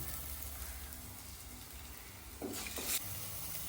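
Thick curry gravy for a mixed-vegetable bhaji sizzles softly in oil with a steady crackling hiss, interrupted near the end by a brief louder splash or stir.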